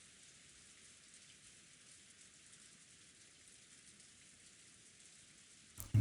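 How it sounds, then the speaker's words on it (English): Steady rain from the video game Umineko no Naku Koro ni pours in an even, hissing wash for several seconds, then a sudden louder sound cuts in at the very end. "it must be the sound of rain"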